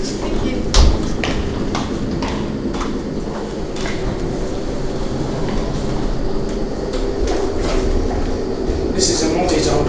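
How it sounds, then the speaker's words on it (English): A modified old Otis lift that also serves as a freight elevator runs with a steady loud mechanical rumble and hum, marked by a sharp clunk near the start and scattered rattles throughout. "This is a modded old OTIS. It also doubles as a freight lift."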